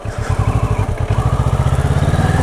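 A motorcycle engine thumps through a first licence lesson, its loud, close, rapid putter pulsing steadily as the throttle dips and then picks back up. No one speaks.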